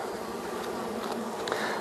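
Honey bees buzz densely around a hive frame holding capped and open brood and pollen, a steady close-up drone with no voices.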